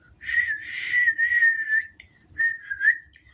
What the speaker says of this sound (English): Can I whistle? Yes, I can.